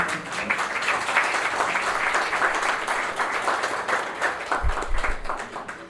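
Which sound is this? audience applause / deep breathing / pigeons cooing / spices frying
audience applause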